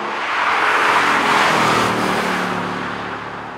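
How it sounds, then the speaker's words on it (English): Twin-turbo V8 of an Aston Martin Vantage AMR with a manual gearbox, droning steadily under load while driving, a loud, sustained engine note that swells slightly and then eases, with no talk over it. "taking full control of that twin turbo V8 up front"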